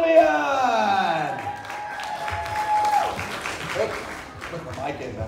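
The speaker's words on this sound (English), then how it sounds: "Please, a big round of applause for the unbelievable Vivian Oblivion!" Audience applause and cheering for a stage performer at a Halloween fright fest event, a loud burst of clapping under an announcer's amplified voice.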